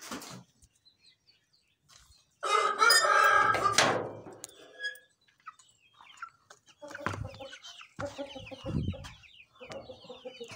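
Chickens clucking and squawking at a small home farm, a loud burst of fowl calls followed by scattered clucks, close by with quiet gaps between.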